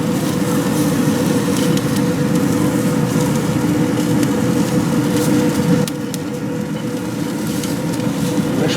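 Seafood searing on a hot grill for a Gulf Coast mixed grill, steady loud sizzling and crackling that drops slightly in level partway through, heard alone with no talking.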